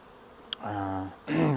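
Two short bursts of close honey bee buzzing, a droning hum that cuts off and then starts again, preceded by a faint click.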